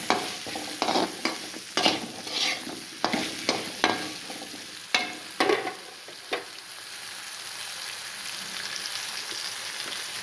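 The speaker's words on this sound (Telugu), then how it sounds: "చూసారా, ఉల్లిపాయ వేసాను." Chopped onion frying in a pan for mukkala pulusu, a tamarind vegetable stew, with repeated sharp stirring scrapes over the first half and a steady sizzle continuing alone afterward.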